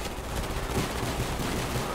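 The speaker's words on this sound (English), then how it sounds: "Gunfire out of the canister!" Dense, continuous crackle of rapid video game gunfire in Call of Duty: Black Ops fills the whole stretch, loud and unbroken, like sustained automatic shooting with no pauses.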